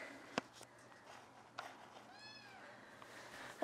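A tiny kitten gives one short, rising meow partway through, close and fairly quiet, with a few faint clicks and knocks around it.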